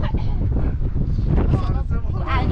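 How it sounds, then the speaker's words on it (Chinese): Strong wind buffets the microphone on a foggy mountain, a loud, dense roar of gusts through the whole moment, with a voice partly audible under it. "大风摇晃摇晃的哈"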